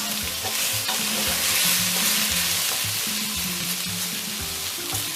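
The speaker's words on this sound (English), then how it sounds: "And stir continuously" A spoon stirs a cabbage stew frying with gizzard, onion and chopped tomato, with a continuous close sizzle and repeated scraping strokes against the pot.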